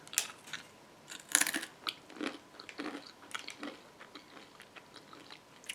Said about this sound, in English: I want y'all to hear the crunch